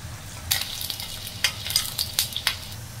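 Onion sautéing in a pan for chicken dum biryani, with a steady sizzle and repeated scraping strokes of a spoon stirring at an uneven rhythm, close and clear.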